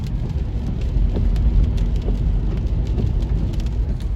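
Steady rain pours down on a rainy-day restaurant delivery drive, a dense continuous hiss of drops drumming on the car with a low rumble underneath, no voices.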